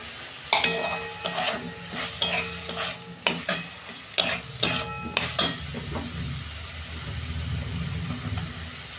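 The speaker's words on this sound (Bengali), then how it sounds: "এই যে আমার আদা রসুন কষানো হয়ে গেছে, আমি টমেটো দিচ্ছি।" Tomatoes go into a pan of fried ginger-garlic paste for a Bengali cabbage dish with fish head, with a series of sharp spoon scrapes and clanks against the pot over a soft, continuous sizzle.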